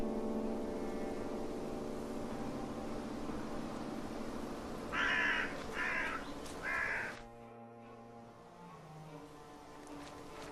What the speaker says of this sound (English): Those were some serious crows.